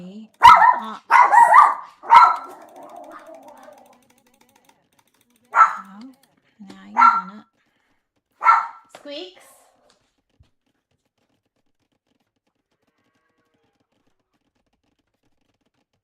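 Sadie the dog gives several short bursts of barking, a tight cluster at first and then a few spaced single barks, close and fairly loud, with a person talking between them.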